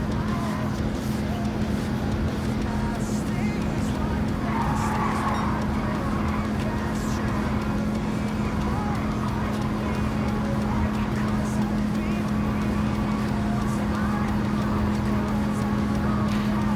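Race cars in the video game Gran Turismo 7 drone steadily through a continuous engine hum, with faint tire squeal and skidding bursts along the way, loud and unbroken throughout.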